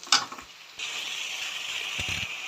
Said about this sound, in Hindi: टमाटर को अच्छे से गलाने के बाद फिर इसमें दही और मसाले को अच्छे से पकाऊंगी।